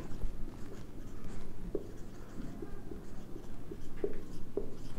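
Pen writing an accounting entry on paper, a soft continuous scratching close by with a few light taps, no voices.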